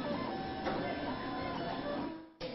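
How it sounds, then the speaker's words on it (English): A 3D printer running as it prints an object in a school makerspace, giving a steady whirring, buzzing motor drone with faint rhythmic ticks, close and continuous, with a brief dropout near the end. "Once it's been scanned, the 3D printer can start printing the object."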